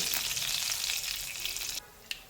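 Chana dal and curry leaves hit hot oil for lemon rice, giving a loud, dense sizzle that crackles steadily, then drops off abruptly near the end, leaving a faint hiss and one sharp tick.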